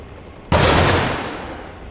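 A rocket volley launched from a Huey helicopter in Arma Reforger, one sudden loud whooshing blast that roars up and slowly fades, close and alone.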